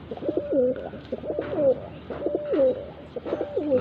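A red-eyed pigeon coos in a repeating pattern, four clear throaty coo phrases spaced about a second apart, close and distinct with no voices.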